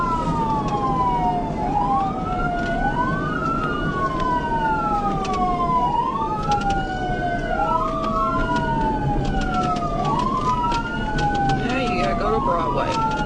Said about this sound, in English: Trooper Cass activated the siren fully and initiated a pursuit